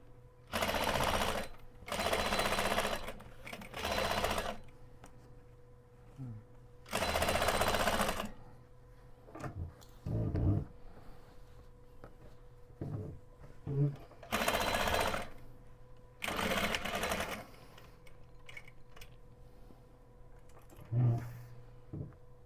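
A sewing machine stitches together a quilted zipper pouch in several loud, rapid whirring bursts, each lasting a second or two. Quieter pauses come between the bursts, and someone talks during the pauses.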